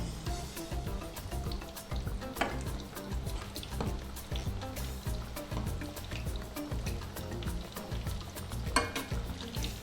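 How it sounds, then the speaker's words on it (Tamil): Prawns deep-frying in hot oil for prawn popcorn sizzle and crackle steadily up close, with a dense bubbling hiss that goes on throughout. "ப்ரான்ஸ் நல்லா மொறுமொறுன்னு பொரிச்சிருக்கு."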